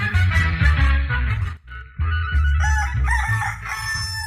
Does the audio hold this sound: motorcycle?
no